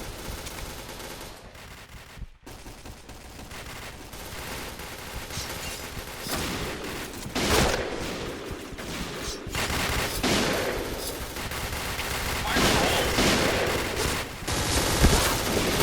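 Rapid bursts of gunfire in the Point Blank shooting game, with several loud automatic volleys and scattered single shots that come and go over a steady background of game noise.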